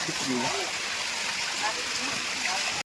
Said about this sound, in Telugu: వాటర్ అయితే ఇక్కడ బాగా పారిపోతుంది